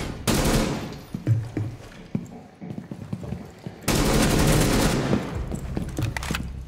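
Loud bursts of automatic gunfire from a Rainbow Six Siege match at Hereford Base, a dense volley at the start and a second sustained burst later, with quieter scattered shots and game noise in between.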